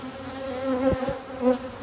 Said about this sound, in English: I see a big old swarm of bees in the air